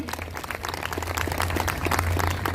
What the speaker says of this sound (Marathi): या कार्यक्रमाच्या वक्त्यांसाठी देखील जोरदार टाळ्या झाल्याच पाहिजे